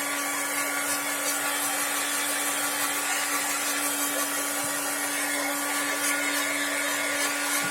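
A hair dryer blows steadily and continuously at close range onto a freshly painted drawing, a loud constant whooshing drone with a fixed motor hum and no voices.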